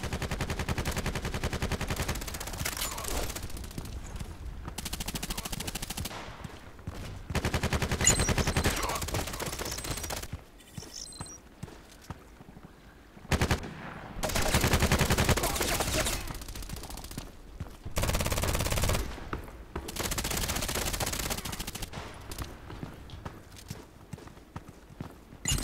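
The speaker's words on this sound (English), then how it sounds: "From the other side shooting." Gunfire in the online shooter Contract Wars comes in repeated loud bursts separated by quieter gaps, with distant exchanges of shots across the map and little talk.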